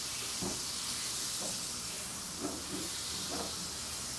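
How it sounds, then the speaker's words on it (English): Two tablespoons of butter melting in a wok on a stove, giving a steady close hiss and sizzle with a few soft bursts of spattering and no talking. "So go ahead and melt that butter"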